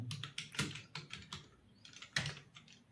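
Fingers type on a computer keyboard in quick uneven bursts of close, crisp key clicks, pausing briefly midway before a few sharper strokes, with no talking.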